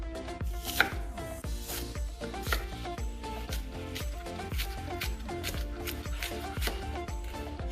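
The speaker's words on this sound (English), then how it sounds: "Turn it to the side and we're just going to do a light chop." A knife lightly chopping coconut meat on a cutting board, a regular series of close, crisp knocks about twice a second, steady throughout.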